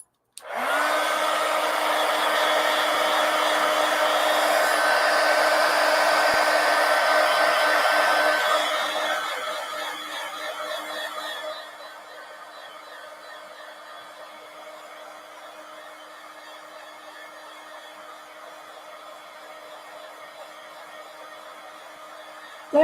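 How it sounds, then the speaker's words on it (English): A heat gun blasts steadily and loudly over an art journal page for about ten seconds, then drops to a lower, quieter whir that continues to the end. "heat gun."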